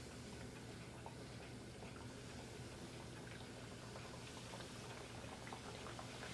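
Catfish nuggets frying in 3.5 cups of canola oil at about 375 degrees in a deep, wide skillet give a steady, dense bubbling sizzle that holds at an even level from start to finish, with no voices.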